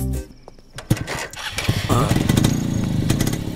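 A motorcycle engine fires up and settles into a loud running chug, with sharp bursts at the start and a steady drone afterward.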